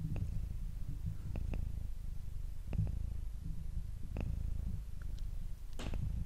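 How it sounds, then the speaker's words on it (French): A low, continuous rumbling purr from a cat very close by, steady throughout with a few faint clicks on top. "j'imagine que là vous entendez ces ronronnements"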